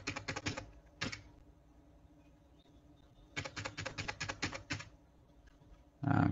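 Bursts of rapid keystrokes on a computer keyboard, fairly close and quiet, coming in two runs separated by a pause, with a louder thump at the end.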